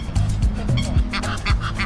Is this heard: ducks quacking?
yes